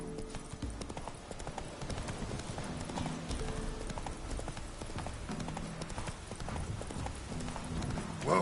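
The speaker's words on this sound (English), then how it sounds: "Whoa there, Roach" Horse hooves galloping in the video game The Witcher 3, a steady rapid clip-clop rhythm running throughout at moderate level, with a brief whinny and a voice near the end.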